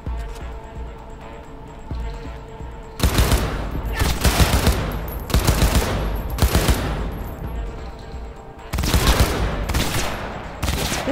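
Heavy-recoil gunfire in Cyberpunk 2077 rings out in loud, rapid bursts, several volleys of automatic shots separated by brief lulls of low background hum.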